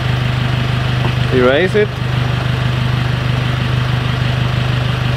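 A Nissan X-Trail engine idles with a steady, continuous hum that runs the whole time at even loudness, while a voice speaks briefly over it partway through.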